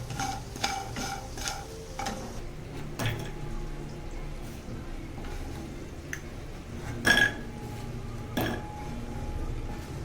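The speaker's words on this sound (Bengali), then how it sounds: "শুকনো খোলায় এটা একটু রোস্ট করে নিচ্ছি।" Lentil dumplings (bori) are dry-roasted in a pan with no oil, heard as quiet, close scraping and rattling stirs with occasional sharp clinks of the utensil on metal.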